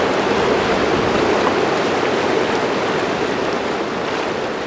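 A river rushes in a steady, dense wash of flowing water, loud and close, with no voices or other sounds over it.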